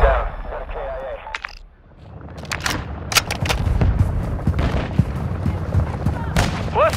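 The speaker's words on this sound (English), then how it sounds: "Hostiles launched a mortar strike!" Mortar strike explosions in the Call of Duty game, a dense run of booms and sharp blasts over a roaring battlefield with gunfire, loud and close, with a voice speaking briefly early on.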